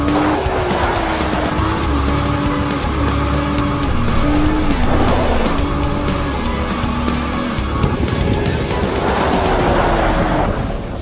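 A 540-horsepower Nissan GT-R sports car races at speed on an ice track, its engine droning loudly and shifting pitch with tire squeal and skidding noise, close and continuous with no talk.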